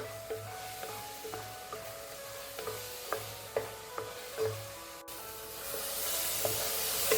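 Kadali bananas stirred and sautéed in a pan for payasam, with a spoon scraping and tapping at a steady irregular rhythm over a soft sizzle that brightens toward the end, close and fairly quiet, with no talking.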